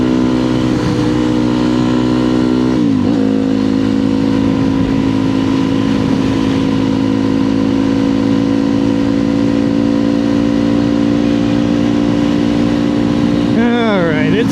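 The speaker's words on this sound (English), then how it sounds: "the stock exhaust on this bike's far louder than the FMF that replaced it" A motorcycle ridden on the street with its loud stock exhaust, steady engine drone holding a constant pitch close up, with a brief rev change near the start and rising revs at the end.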